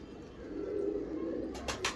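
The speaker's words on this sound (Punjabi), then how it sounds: "ਮੋਸਟ ਫੇਵਰੇਟ ਕਬੂਤਰ" Cheena breeder pigeon cooing, a low steady burbling coo held for about a second at close range, followed by a couple of short, sharper bursts near the end, with no talking.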